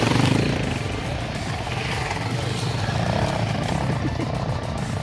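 Minsk X250 motorcycle engine revving hard during an off-road ride alongside quad bikes, a continuous loud rumbling drone that stays steady throughout, with shouted voices mixed in.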